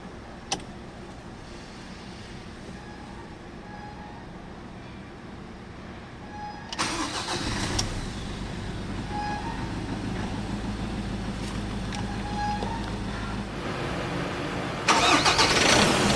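A 2018 Mazda BT-50 2.2 crew-cab pickup with a manual gearbox cranks and fires up, settling into a steady diesel idle. The engine then rises briefly before idling on, close and clear.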